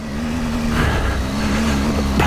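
A Triumph Scrambler motorcycle pulling away on a loose off-road track, its engine droning with a steady low note that climbs slightly as it gathers speed, close and loud with wind rumble.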